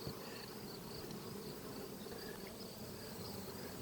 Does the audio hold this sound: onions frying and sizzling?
no